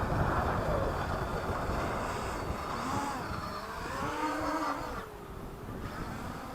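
An XK X350 hobby-grade quadcopter flips in flight, its motors giving a whirring whine that swoops up and down over gusty wind rumble, with no talking.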